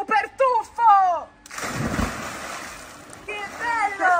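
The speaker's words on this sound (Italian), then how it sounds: "possiamo fare anche i tuffi. 3, 2, 1. Dai, Anto, vieni! Super tuffo" Splash of someone diving into a pool at a home-built water park, a broad rushing burst of water between excited children's voices that calls out before it and cheers after.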